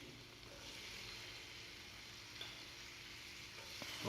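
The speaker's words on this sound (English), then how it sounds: "saute it properly" Spinach sautés in a pan with a faint, steady sizzling hiss and the odd soft stir or clink near the end, heard alone with no talking.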